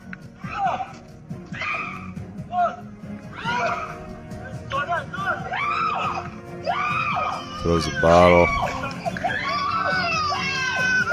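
A person screams loudly in rising, high-pitched bursts during a tense moment as a coyote stalks a small child, with shouting and overlapping voices throughout.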